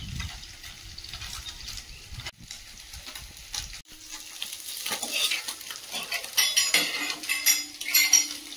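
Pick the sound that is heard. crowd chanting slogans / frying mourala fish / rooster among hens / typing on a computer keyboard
frying mourala fish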